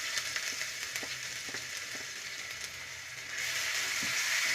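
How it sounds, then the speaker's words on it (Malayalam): Ginger garlic paste hisses and sizzles in hot oil in a pan, a steady close frying crackle that swells louder toward the end. "ഓയിൽ ചൂടായതിന് ശേഷം 1 table spoon ginger garlic paste ഇടുക."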